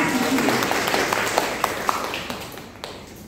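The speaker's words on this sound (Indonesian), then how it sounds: "Oke, tepuk tangan." Classroom audience applauds after a student presentation, a brief scattered patter of claps that fades out over a few seconds with room murmur underneath.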